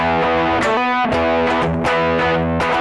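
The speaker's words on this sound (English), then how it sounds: "you can turn on the distortion and you can go like" Heavily distorted electric guitar playing chords in a loud, continuous riff, with sharp attacks at each chord change and no talking.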